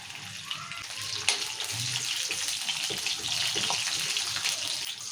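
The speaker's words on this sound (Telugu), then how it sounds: "ఇప్పుడు అల్లము ఎల్లిపాయలు వేస్తున్నా" Ginger and garlic dropped into hot oil with cumin seeds for tempering a tomato and green chili chutney, giving a continuous hissing, bubbling sizzle up close with a few faint clicks of a utensil.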